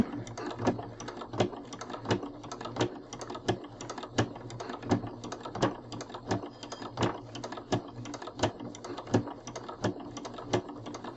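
A sewing machine stitching a ruffle onto a pinwheel block baby blanket, quiet rapid mechanical tapping in uneven bursts with short pauses between runs, close by and without talk.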